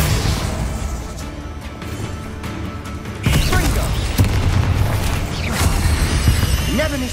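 A fire spell is cast in the fantasy video game Hogwarts Legacy, with heavy whooshing bursts and crackling booms in a loud, busy battle mix that swells midway and again near the end.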